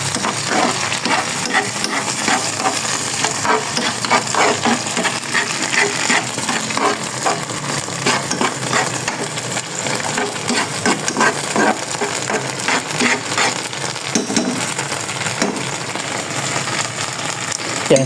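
Canned sardines sautéing with garlic and onion in a pan give a steady, close sizzle with frequent small clinks and stirring scrapes, continuous and even throughout.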